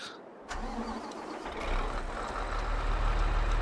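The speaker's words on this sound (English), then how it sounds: "So the engine, this is what it looks like with the engine on and everything." Katana 850 forage harvester engine in Farming Simulator 22 kicks in with a sudden start and settles into a steady, loud, low mechanical drone that builds slightly as it runs.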